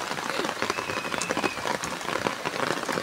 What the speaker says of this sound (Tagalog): Umuulan! Sumilong ka muna, baka mabasa ka.